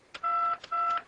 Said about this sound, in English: I've got my phone right here. I picked it up, I dial